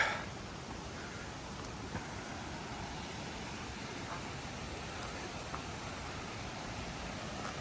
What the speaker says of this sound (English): It's near the raging creek below